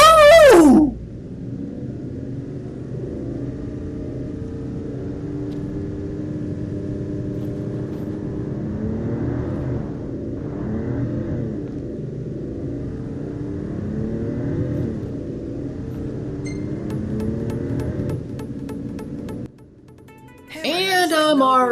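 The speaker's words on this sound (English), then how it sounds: "Time to rev up that engine and push the pedal to the metal!" Car engine revving in the Final Fantasy XV video game, a steady rising and falling mid-range drone that runs for about twenty seconds under continuous talking, then drops away briefly near the end.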